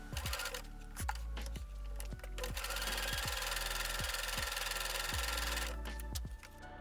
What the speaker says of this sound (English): Flip the band and then sew using the same 3-step zigzag stitch.